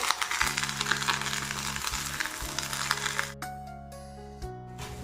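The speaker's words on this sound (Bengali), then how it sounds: "এখানটাতে ফুলকপিটাকে একটু ভাজছি" Cauliflower sizzles in a hot pan, fairly close, with stirring scrapes; the sizzle drops off abruptly partway through, leaving a faint crackle.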